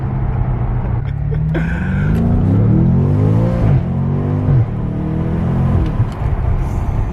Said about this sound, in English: Under throttle on the interior of the car, it sounds amazing.